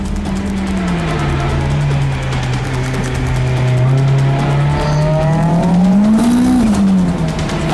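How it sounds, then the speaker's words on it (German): A 500 hp turbo-tuned car accelerating hard: a loud, close, sustained engine drone that climbs and holds in pitch, with a brief rising surge near the end and no talking. "Der Turbomoderator fasst langsam Vertrauen und tastet sich jetzt an den Grenzbereich des 500 PS Monsters"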